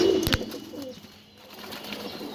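Pigeons cooing at a pigeon farm in Mirpur, with a few low, throaty coos in the first half and faint wing or movement sounds behind them.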